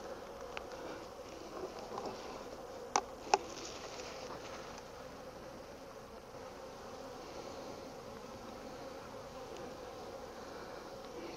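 Steady low insect hum of Italian honey bees in a hive, filling the whole stretch, with a couple of brief sharp taps near the start and faint wind in the background.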